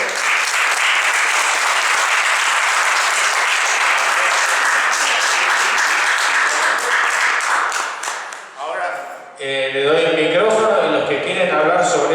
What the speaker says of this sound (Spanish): pido un gran aplauso para todos